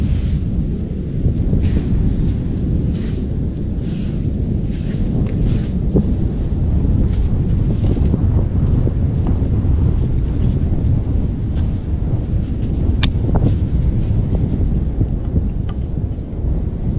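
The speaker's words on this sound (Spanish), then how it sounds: "lo hicimos detrás de este palo para que nos defienda un poquito la brisa, porque hay un gran brisón" Strong sea breeze on a beach where crabs are cooked at the water's edge: a loud, continuous roar of wind buffeting the microphone, steady throughout with no voices.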